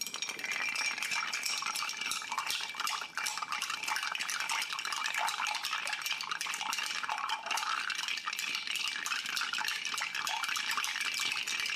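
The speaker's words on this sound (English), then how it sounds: "All right, we're going to give this a good stir." A bar spoon stirs a bourbon and mezcal cocktail over ice in a mixing glass, a steady, continuous clinking and swirling rattle with no voices.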